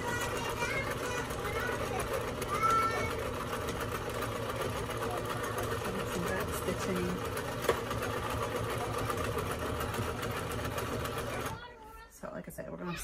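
A sewing machine stitches fabric for a four-layer face mask, running continuously at a steady hum for about eleven seconds before stopping, with a voice talking over it.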